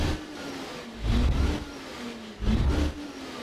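A Ford Cargo truck engine in Euro Truck Simulator 2 runs at a steady low rumble, with two louder swells as the revs briefly rise. It sounds close, fairly loud and alone, with no talking.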